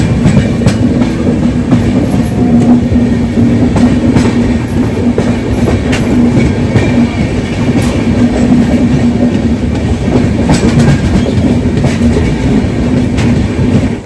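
The Lalbagh SF Express runs on the rails between Bangalore and Katpadi, a loud, continuous rumble with rhythmic wheel clatter heard from inside the coach throughout.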